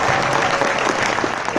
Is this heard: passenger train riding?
no